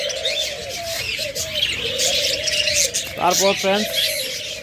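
Caged budgerigars, cockatiels and lovebirds chirp and tweet steadily close by, with a brief burst of sharper repeated calls near the end, while a person talks over the birdsong.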